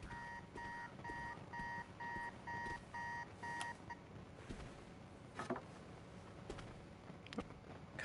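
An alarm in the Spider-Man 2 video game beeps in a rapid, steady repeating pattern for about four seconds over ambient game noise, then stops, leaving background rumble and a few clanks.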